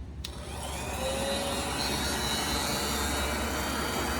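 A heat gun blows a steady, loud, even hiss as it warms plastic armor film on the edges of a carbon mountain bike frame, running continuously with no talk.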